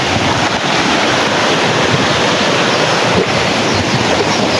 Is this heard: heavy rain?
yes